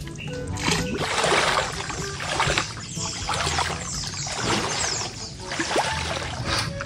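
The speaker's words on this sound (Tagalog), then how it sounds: "Nililimsan ko naman po ngayon ito pong bangka" Repeated splashing and pouring of water in uneven scoops as water is bailed out of a boat, close by, with some muffled voices in the background.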